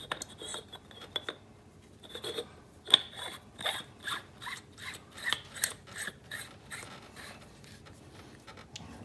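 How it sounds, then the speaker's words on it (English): A plastic oil catch can part on a 2010-2015 Toyota Prius being screwed back on, producing a run of rhythmic rasping, grinding clicks close by that grow more regular as it tightens. "screw this back on."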